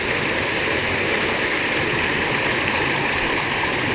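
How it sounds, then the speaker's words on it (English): Steady rushing of small rapids and little waterfalls along a creek in the Zion–Bryce area, a dense continuous broadband wash of moving water, close and fairly loud, with no voices. "So we made it to this little point where there's some rapids, little tiny waterfalls."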